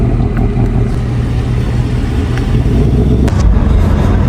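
A 2025 Mustang GT, rebuilt after being wrecked, rumbles steadily as it drives off, a loud low engine drone with a brief surge near the end and no talking.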